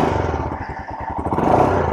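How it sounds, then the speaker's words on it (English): Modded Royal Enfield Himalayan motorcycle with an aftermarket exhaust pipe idling close by, a steady low throbbing engine note with a slight rise near the end. "This is a used motorcycle."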